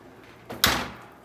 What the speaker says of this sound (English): Okay, close the door.